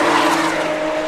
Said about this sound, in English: Those Lotuses sound good.